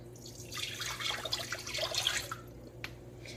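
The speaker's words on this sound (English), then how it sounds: "I'm just adding a cup of water." A cup of water is poured into a slow cooker of pulled pork sauce made with ketchup, a close, steady splashing pour lasting a couple of seconds, then fading to a brief drip.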